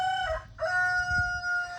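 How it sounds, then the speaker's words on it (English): A rooster crows up close on a small Texas homestead, a loud drawn-out call broken by a brief pause, with low clucking from hens underneath. "Here's one of my older hens."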